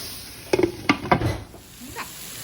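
Frozen riced cauliflower cooks in a pot, giving a soft sizzle with a few scraping stir strokes and light clinks near the start, then settling into a quiet, steady simmer.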